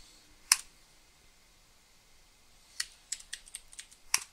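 Typing on a computer keyboard while setting up Arch Linux in VirtualBox: one isolated key press, a long quiet pause, then a short run of quick, close, crisp keystrokes.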